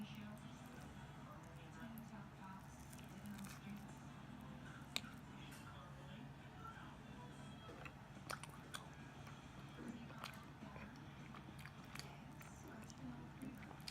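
Close, soft chewing and biting on meatballs with egg noodles, with intermittent faint crunches and moist mouth sounds over quiet background.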